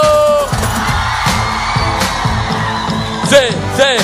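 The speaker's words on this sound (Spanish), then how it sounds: "un grito de júbilo" At a live Latin urban gospel concert, a crowd lets out whoops and yells over a pounding rhythmic beat with voices, the shouts rising loudly near the end.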